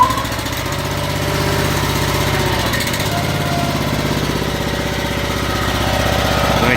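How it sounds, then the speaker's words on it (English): A Honda gas engine driving a Titan Hydramax pressure-washer pump runs steadily at close range, giving a continuous, throbbing mechanical drone that holds even throughout with no one speaking. "Let me get the pump going, give it a little bit of fuel."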